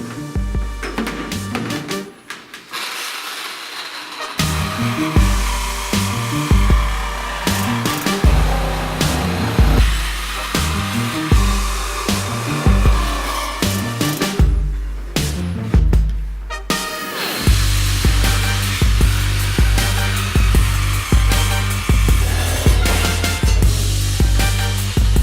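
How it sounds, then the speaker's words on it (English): Loud, sustained rasping of a reciprocating saw cutting through a metal harness bar on a Miata, rhythmic rapid strokes over about twenty-five seconds with a short pause near the start and another near the end. "For just being a Sawzall cut, I'm really happy with that."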